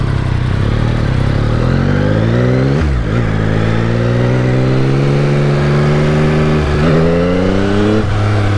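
A Yamaha R1 sport motorcycle at a riding school revs loudly and pulls away, its engine pitch climbing through the gears with brief dips at each shift as it accelerates nearby.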